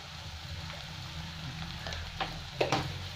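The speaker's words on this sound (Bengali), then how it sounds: "মশলাটা ভালো করে ভেজে নিচ্ছি" Spice paste of Kashmiri chili and cumin powder fries in oil in a pan for a Bengali yogurt fish curry, a low steady sizzle with a few sharper crackles and stirring scrapes near the end.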